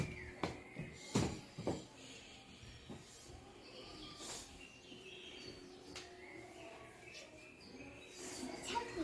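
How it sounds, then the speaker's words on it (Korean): Birds chirp intermittently in a forest, a few faint, short calls scattered over a quiet background with some soft rustling and low rumble. "새소리가 들려요."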